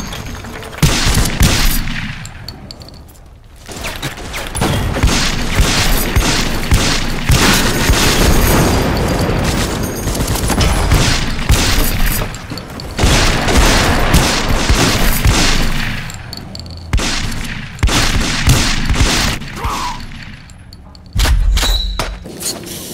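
Remington Sheriff gunfire in the World War Heroes FPS video game, loud close bursts of rapid shots and booming blasts sustained for long stretches with brief pauses between volleys.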